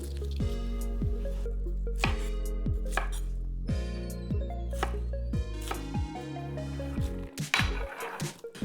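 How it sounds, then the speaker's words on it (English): A knife chops through a cored cabbage on a cutting board for jjajangmyeon, landing about ten crisp, evenly spaced strikes with a faint moist crunch, close and clear with no talking. "I'm just going to take out the core, and then I'm going to cut it in roughly the same size."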